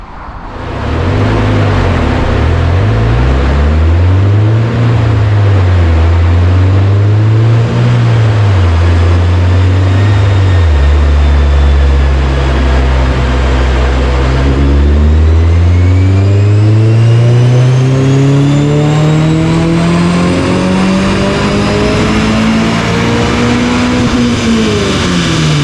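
Stock Subaru BRZ second-generation FA24 engine on a dyno with the hood shut, revving loud and steady for about 25 seconds: two rising-and-falling sweeps, then one long climb to high RPM.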